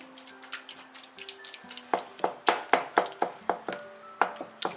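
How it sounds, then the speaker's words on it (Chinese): Hot steamed pumpkin is mashed into puree in a large bowl. Light taps open the sound, then it settles into a steady run of sharp, ringing knocks as the utensil strikes the bowl about three times a second. "趁热把它捣成泥"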